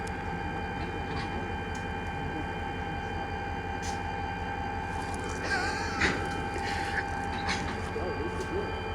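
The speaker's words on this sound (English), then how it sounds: "We stopped the whole cargo train. It's making all this loud noises." A stopped cargo train rumbles steadily with a constant low drone and whining tonal hum, loud and sustained, with a brief louder screech or clank burst partway through.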